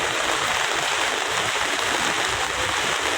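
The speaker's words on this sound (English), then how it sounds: "So this place, water is flowing." Water rushes across flooded ground after about 45 minutes of heavy rain, a dense, steady, close wash of sound that never lets up.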